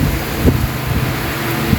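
Heavy, steady rain pours during a flood in a Philippine street, a dense continuous roar with a couple of faint low thuds, no talk.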